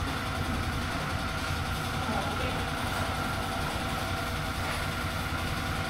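An automatic car's engine idles in a steady low rumble with a constant hum, heard close and unbroken.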